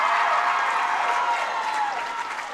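A crowd at a girls' high school swim meet cheers a swimmer into the finish, a sustained roar of voices and clapping that slowly fades over a couple of seconds.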